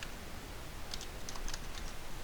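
Rapid clicking of computer keyboard keys as someone types into an Excel spreadsheet, a steady patter of close, light taps with no voices.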